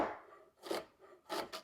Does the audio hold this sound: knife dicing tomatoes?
yes